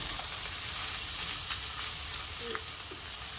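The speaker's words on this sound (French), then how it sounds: "je vais faire saisir mes fruits de mer en tout premier" Seafood searing in a hot pan, a steady close hiss of frying with faint stirring scrapes and a few small pops, fairly quiet and free of voices.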